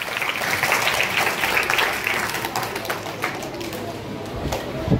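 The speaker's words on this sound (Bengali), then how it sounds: "এবার ওনারা যে এখানে এসেছেন তার জন্য একটা জোরে হাততালি" An audience at a school Teachers' Day and Vidyasagar birthday celebration applauds retired teachers, a sustained crowd clapping that gradually eases off, with some voices mixed in.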